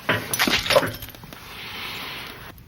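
Glass breaking in a comedy film scene: a sharp crash with bright shattering bursts at the start, then a lingering hiss as the debris settles.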